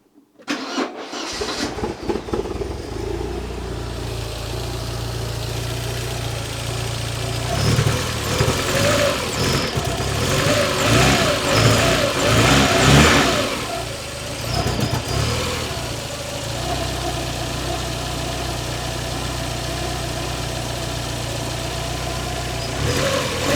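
A Porsche 924 engine cranks and starts after an overhaul, then settles into a steady idle close by. It is revved briefly in the middle before returning to an even idle, and no one speaks.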